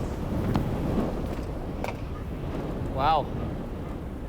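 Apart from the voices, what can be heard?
strong wind blowing outdoors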